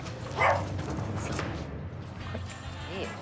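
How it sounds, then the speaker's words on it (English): A dog barks once, loudly and close by, during a tense confrontation between a tenant and property managers, then steady background noise and distant voices carry on. "just as things are calming down, one of the dogs approaches"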